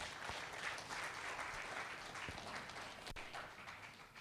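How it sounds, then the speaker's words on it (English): Applause from an audience at a startup event, a soft, fairly distant patter of many hands clapping steadily, with a brief knock near the end. "let's have a huge round of applause for them"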